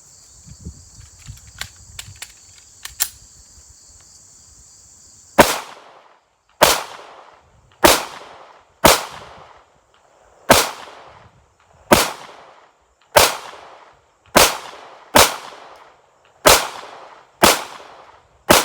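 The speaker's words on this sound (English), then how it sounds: "let's go ahead and get started with our first mag, and we'll start with the upper right here. This target." Eleven sharp gunshots from a SARUSA B6C pistol fired at range targets, loud and close, spaced about a second apart with short echoing decays, after a quiet stretch of faint insect chirping and small clicks.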